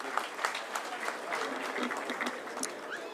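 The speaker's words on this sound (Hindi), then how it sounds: "जोरदार ताली का स्वागत करिए" Crowd applause at a Hindi-speaking political rally welcoming a speaker to the stage: sustained, moderately distant clapping from a large gathering, steady and dense with a faint murmur of voices beneath.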